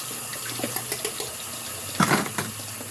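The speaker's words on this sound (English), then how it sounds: "Again, just rinse it off." Tap water runs continuously over dishes being rinsed in a kitchen sink, with a few clinks and splashes as items move under the stream, close and without talk.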